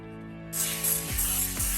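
Cooking oil is sprayed onto hands while making Easter paska bread, a close, bright hiss in short bursts over soft background music.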